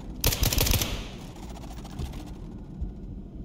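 Automatic gunfire in the video game SCP: 5k, a loud, rapid burst of shots near the start that cuts off, followed by a low rumbling game ambience with a few softer thuds.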